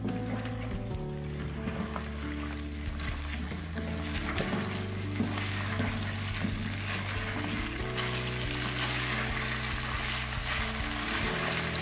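Cauliflower and chicken fry in a pan with a constant close, dense sizzle, broken by occasional stirring scrapes and clinks, with no voices.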